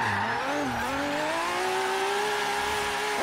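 A car drifts in Forza Horizon 3 street racing in a parking lot, its tires squealing in a long continuous wail over a steady, revving engine drone, loud and close throughout.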